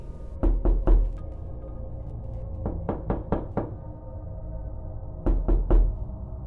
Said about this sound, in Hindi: तभी दरवाजे पर किसी ने दस्तक दी।